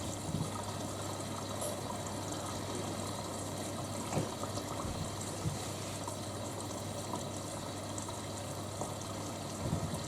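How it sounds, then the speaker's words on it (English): Rinse cycle of a Hotpoint WD64 Aquarius Extra washer dryer, a faint continuous wash of trickling water under a low mechanical hum, steady throughout with a few small knocks. "going for the first rinse"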